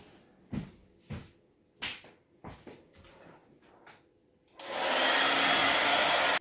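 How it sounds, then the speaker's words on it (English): A few sharp knocks and handling clicks come first. Then a hair dryer switches on and blows loudly and steadily at close range to dry black paint on a fabric tote. "Blow dry the black first before I use the yellow, otherwise they'll just blend together."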